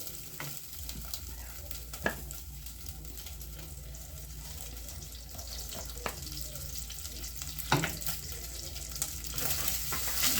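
Beef pieces fry in oil for a stew, sizzling continuously up close with occasional stirring scrapes and a couple of louder clinks, and no talking.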